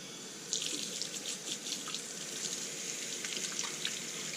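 Water splashed and poured onto a lapping plate for flattening a silicon carbide sharpening stone, a faint, close trickle with a brief splash at the start and light continuous spattering.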